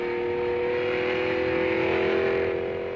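The engine of a 1972 Alfa Romeo Tipo 33 race car accelerates on the Targa Florio road course, a loud, steady, close drone holding a high pitch throughout with no talk over it.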